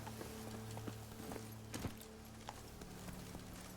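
Roach, Geralt's horse in The Witcher 3 video game, galloping with a steady, moderately loud clip-clop of hooves over a continuous low drone, with a brief heavier thud partway through.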